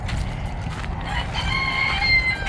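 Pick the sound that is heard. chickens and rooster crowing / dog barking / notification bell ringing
chickens and rooster crowing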